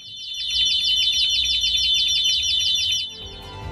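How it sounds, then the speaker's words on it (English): Pajaritos bird stop of a 200-year-old bamboo pipe organ in the Philippines, a loud rapid warbling chirp that trills continuously like a flock of small birds for about three seconds, then stops abruptly. "some are used for the pajaritos feature or the bird sound"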